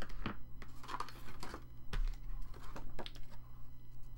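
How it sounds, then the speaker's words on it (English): Scissors snipping the corners of paper for an explosion box craft, a few crisp, close cuts and rustles spaced irregularly over a low hum. "now we're just gonna snip the corners here"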